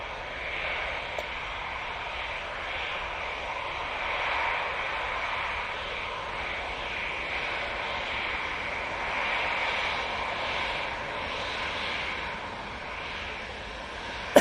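A Eurowings Airbus A320 departs Manchester Airport for Dusseldorf, its engines a steady, fairly distant roar that gently rises and falls throughout, with no voices.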